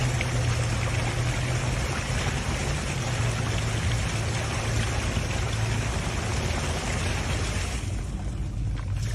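Super-chlorinated water pouring steadily from a flanged end on an HDPE polyethylene pipe, a continuous splashing rush like a heavy stream, loud and unbroken, easing slightly near the end.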